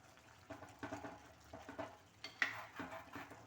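Egg aviyal is stirred in a pot just after curd is added, giving quiet, close, repeated scraping strokes with a faint wet sizzle and no talking.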